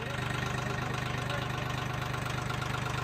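A tractor engine runs in gear nearby, a loud, steady, rhythmic chugging with fast regular low pulses that continue without a break, no voices.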